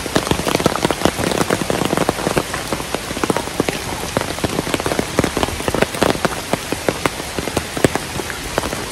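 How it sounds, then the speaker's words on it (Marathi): Heavy monsoon rain pours down at the Matheran hill station, a dense, steady patter of drops drumming on surfaces close by, continuous and fairly loud with no voices. "तर पूर्ण असा पावसाने धुमाकूळ घातलेला आहे."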